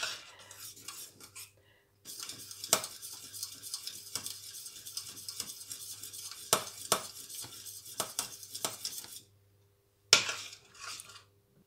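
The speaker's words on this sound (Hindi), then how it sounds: "सलसल हिलाते रहें, नीचे ना लगे" A spoon scrapes and clinks around a pot of milk custard cooking on the stove, a steady run of stirring strokes with brief pauses and sharper knocks against the metal.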